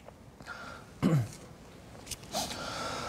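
A single short throat clearing, close to the listener, followed by a softer second one in an otherwise quiet room.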